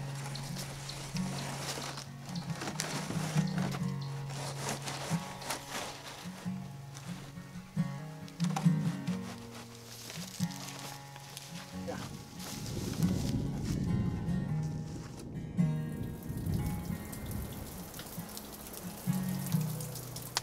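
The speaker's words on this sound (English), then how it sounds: "raining outside, very few leaks anymore" Rain falls outside a homestead log cabin with a bark roof, heard from indoors as a soft, steady patter with drips, mixed with low droning tones and occasional knocks throughout.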